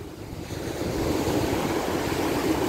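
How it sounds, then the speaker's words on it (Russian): Huge sea waves break on a beach at sunset, a broad rushing roar that builds and holds loud and steady, mixed with wind buffeting the microphone and no speech. "Посмотрите, какие волны огромные сегодня."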